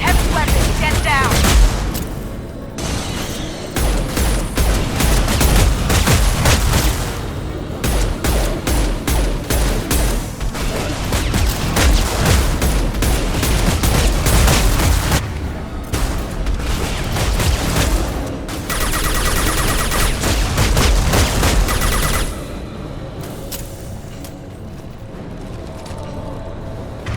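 Heavy weapons gunfire in Mass Effect 2 during a Collector trap sequence: sustained loud bursts of fusillade and booming impacts roll on for over twenty seconds, with voices shouting over the barrage before it eases near the end.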